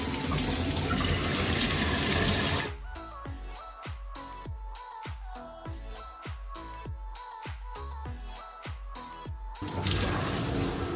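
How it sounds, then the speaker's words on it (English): Running tap water rushes steadily as hair is washed, loud at the start and again at the end, with a quieter middle stretch broken by rapid, irregular tapping and knocking sounds. "So I'm gonna wash my hair first with water."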